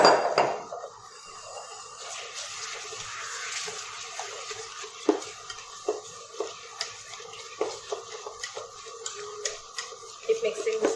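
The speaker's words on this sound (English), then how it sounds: "Keep mixing this nicely" Veg chocolate mousse stirred in a pan: repeated soft scraping and clinking of a utensil against metal in an irregular rhythm, close by, with a kitchen background hum.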